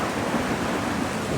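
A loud, steady roar of heavy rain pouring down in a squall over a boatyard, continuous and close, with no voices.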